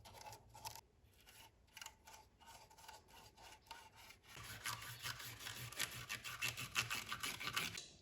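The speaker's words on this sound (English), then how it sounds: "I'm going to try and do it with a bit of dry brushing, just using a variety of colours" Small paintbrush dry brushing paint onto model railway sleepers, soft intermittent scratchy brushing strokes, faint and close, growing denser and more continuous in the second half.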